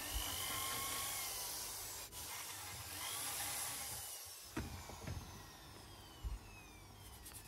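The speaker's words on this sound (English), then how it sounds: "I use my fine carbide burr to try and recreate the cast finish." Fine rotary carbide burr grinding the cast surface of a Kawasaki S1 four-cylinder crankcase, a steady high scraping whir running for several seconds before breaking into short separate passes near the end.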